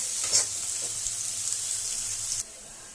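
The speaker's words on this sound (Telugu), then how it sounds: "ఆనియన్ బాగా బ్రౌనిష్ వచ్చేంత వరకు వేసుకుంటాం" Onions frying in a pan for chicken keema, a steady bright sizzle with a couple of faint stirring knocks early on, close and even, cutting off near the end.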